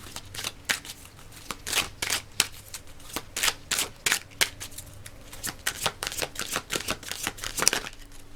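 An oracle card deck is shuffled close up in a long run of quick, crisp riffling bursts, steady and rhythmic, with faint low murmuring underneath.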